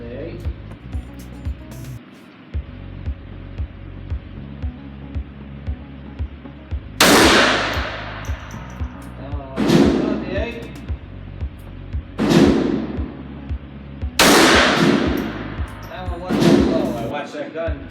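A handgun fires at an indoor gun range, five loud sharp reports with ringing decays spaced a few seconds apart, heard over continuous range noise and a person talking.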